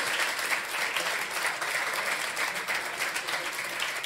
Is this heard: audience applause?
yes